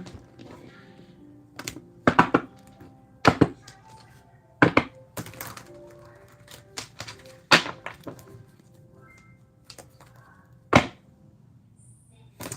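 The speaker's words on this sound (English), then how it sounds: "I'm going to go ahead and give this some good little shuffle here." A deck of oracle cards is shuffled during a live tarot-style reading, making a series of sharp, crisp slaps and riffles spaced irregularly, close and fairly loud against a quiet room.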